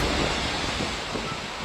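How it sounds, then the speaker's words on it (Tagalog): Ocean surf rolling onto a beach lined with agoho trees in Zambales, a steady broadband wash with no distinct breaks, close and continuous. "Habang ang tunog ng alon may dalang kapayapaan."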